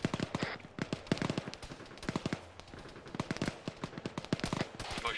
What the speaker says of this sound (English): He's just doing covering fire.